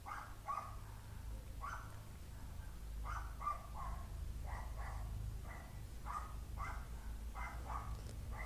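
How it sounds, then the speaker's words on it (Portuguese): A dog barks repeatedly in the distance, a steady run of short, evenly spaced barks over a low background hum, with no talk. "tem um cachorro maldito"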